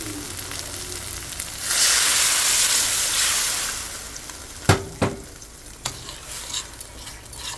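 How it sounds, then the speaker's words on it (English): Vegetable meatball mixture with tomato, onion and cornstarch stirred in a sizzling pan: a swell of frying hiss and scraping, followed by a few sharp utensil knocks and clinks against the pan. "Stir this, and then I'm going to season this up and let it boil up"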